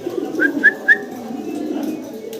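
Racer pigeons coo close by in a few soft, throaty calls, with brief higher whistly notes over a low murmur of background noise.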